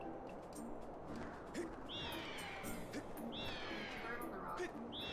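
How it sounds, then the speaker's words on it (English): A bird in the video game Skyward Sword gives two clear swooping calls, soft and set back against a steady background of game ambience, with a few faint thuds in between. "Bird on the rock."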